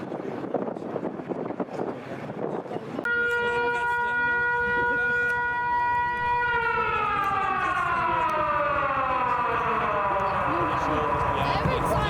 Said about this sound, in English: So, ladies and gentlemen, the siren started.